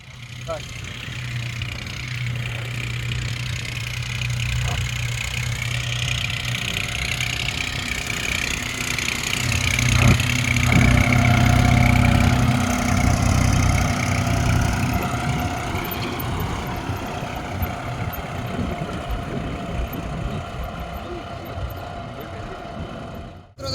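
A New Holland 5510 4x4 tractor engine drones steadily at a low pitch throughout while ploughing a field, swelling slightly in the middle as it works, with a faint rattle on top.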